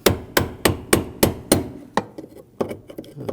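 Sharp metallic strikes of a hammer driving a brass punch to tighten the fuel pump locking ring on a 2007-2013 BMW 328i 3.0L L6: six evenly spaced loud blows, then several lighter, irregular taps.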